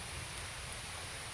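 Rain falls steadily on a garden as an even, dense hiss, with no gaps or other sounds standing out.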